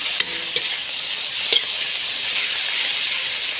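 Chili, lemongrass and galangal sizzle steadily in hot oil as they are stir-fried for Betawi carp in coconut spice, a loud continuous hiss with a couple of soft stirring knocks.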